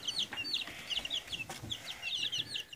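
Many small chicks, about 3-4 days old, chirp in rapid, overlapping high peeps, a continuous busy chatter close by with faint low background noise.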